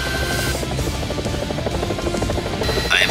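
A helicopter in a game or animated adventure drones with a steady, loud rotor thrum and engine whine, continuous and close, with a brief higher chirp near the end.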